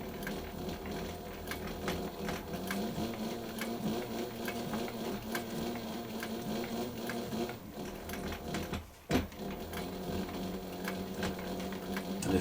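A post bed sewing machine powered by a quiet servo motor stitching through a leather boot, running in a steady rapid whir of needle strokes with a brief pause near the end before resuming.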